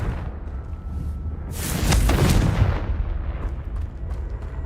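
A Confringo fire spell from the game Hogwarts Legacy bursts in a single loud, rolling blast that swells and fades over a steady low rumble, with no talking.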